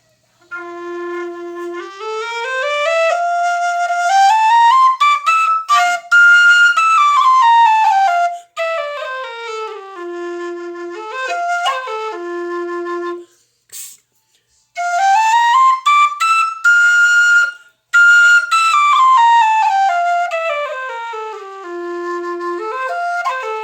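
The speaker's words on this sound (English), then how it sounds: "I'm just going to go down through the F whistles." A tin whistle in F plays clear, bright notes, running up and down scale-like phrases in two long passages separated by a short gap, loud and close with no talking.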